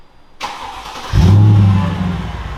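A warm car engine with its muffler removed cranks and fires up after a burst of noise, settling into a loud, raw, throaty idle close by with no talk.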